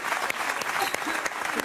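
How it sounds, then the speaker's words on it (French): A lone man claps in the studio audience of a French TV game show, with brisk, irregular handclaps that are fairly close and loud while voices talk over them. "C'est le seul qui applaudit"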